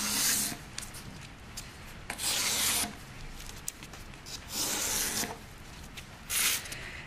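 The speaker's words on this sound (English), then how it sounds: "So you keep scoring and rolling until you've used up the entire sheet" A sheet of sandpaper is scored and rolled to make a buff stick, giving repeated dry scratchy rasping strokes, several loud bursts between softer rubbing, close up and with no talking.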